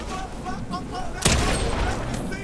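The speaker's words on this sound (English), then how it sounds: "Havoc pump shotgun." A Havoc pump shotgun fires once in Fortnite: a single loud, sharp blast comes after a moment of talking and then rings out into the game noise.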